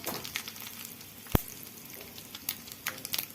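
Mustard seeds and garlic sizzle steadily in hot oil for a brinjal chutney, with a continuous hiss, scattered small crackles and one sharp pop.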